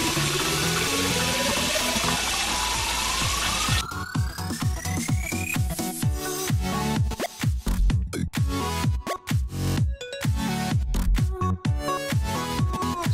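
Cold water running from a tap into a cooking pan for lentil soup, a steady rushing pour with rising pitch as the pan fills, then splashing and sloshing, close and alone.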